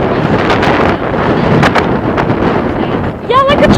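Strong wind on a gusty day in Nevada buffets the microphone in a constant roaring rush with louder surges, and a person talks briefly near the end.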